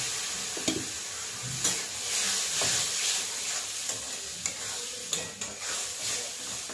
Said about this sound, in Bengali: এবার মশলা একটু ধুয়ে দিয়ে দিলাম।